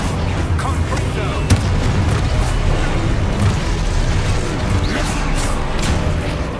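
A Confringo fire spell explodes during Hogwarts Legacy gameplay, one sharp burst standing out over a dense, continuous bed of loud combat rumble and booms.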